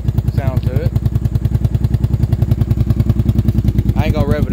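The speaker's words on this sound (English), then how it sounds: "See, it doesn't have a bad sound to it. No smoke or anything like that. I took care of this bike." A well-kept motorcycle idles steadily up close, its engine thumping in an even, rapid rhythm throughout without being revved, with a faint voice briefly heard over it at the start and again near the end.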